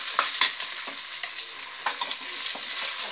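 Sarson saag is stirred into a hot tadka, giving a bright sizzling hiss broken by repeated scraping stirs at an uneven rhythm, close and fairly loud.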